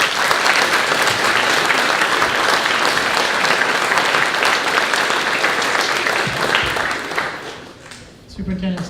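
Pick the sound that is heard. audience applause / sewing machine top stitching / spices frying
audience applause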